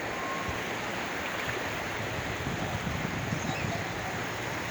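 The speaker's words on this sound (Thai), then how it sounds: "ดูคลื่นครับคลื่นแบบ" Sea surf at Toey Ngam beach in Sattahip, Chonburi, Thailand, a constant broadband wash of waves mixed with wind buffeting the microphone, steady and moderately loud.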